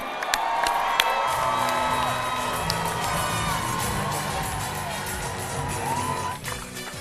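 A party crowd at a Strictly Come Dancing-style Christmas dance event cheers, whoops and shouts continuously and loudly for a dance couple, with scattered whistles over a dense roar of many voices.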